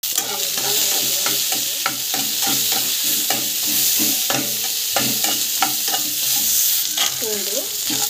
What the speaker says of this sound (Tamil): ஸோ ஆனியன், மிளகாய், நல்லா வந்து வதங்கும்.